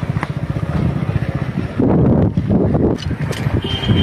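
A motorcycle rides along a dirty road, its engine thumping in quick, close pulses before gusty wind noise washes over it.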